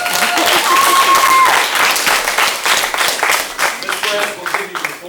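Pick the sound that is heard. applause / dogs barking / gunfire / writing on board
applause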